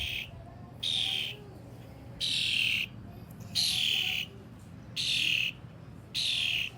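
A small wild bird perched on a person chirps in a steady rhythm of about six bright, close bursts separated by short pauses, over a low outdoor background hum.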